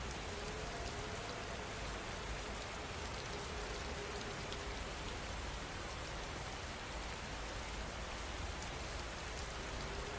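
Steady, dense rain pours down without pause, a soft continuous hiss of drops on a surface that stays even in loudness throughout, with no voices or thunder.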